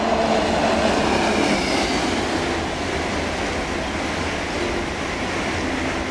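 A train rumbles past loudly and close in Germany, between Oebisfelde and Wolfsburg, a continuous roar of wheels on rails that eases slightly toward the end.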